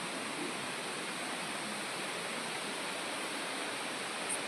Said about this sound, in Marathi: आपल्या समोरच आहे हा पहिला धबधबा.